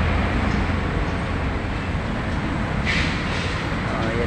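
A train rumbles past in an urban area near Masinag, Antipolo, as a loud, steady roaring wash of noise that holds evenly for several seconds, with a faint higher hiss partway through and no talk.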